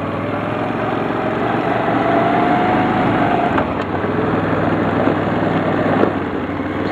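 A Kazuma ATV engine idles steadily outdoors, a continuous close, fairly loud mechanical drone with a slight rise and fall, with no voices over it.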